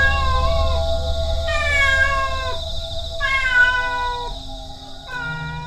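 A black cat meows repeatedly, loud and close, with drawn-out wavering cries in a steady rhythm and brief pauses between calls, no talking.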